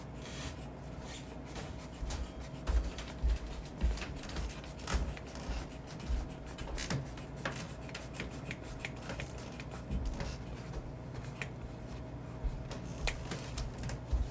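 Scissors cutting paper for a homemade toy snake, a run of repeated close snips and rustling paper, irregular in rhythm, with no talking.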